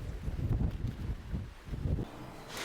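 Gusty wind in a garden in Northamptonshire, England, buffeting the microphone, a steady low rumble that surges and eases with no voices.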